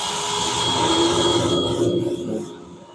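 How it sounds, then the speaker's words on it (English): A cypress wood bowl spins on a lathe while sandpaper rubs against it, giving a steady close hiss and rasp over the motor's hum that eases off and fades near the end. "Bear with me while I'm sanding."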